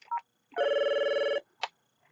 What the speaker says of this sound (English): Let's show a couple of calls coming in.